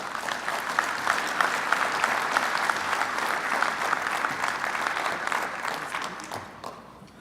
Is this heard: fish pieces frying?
no